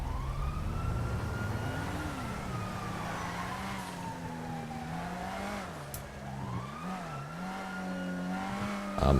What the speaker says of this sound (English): I'm hearing the sirens,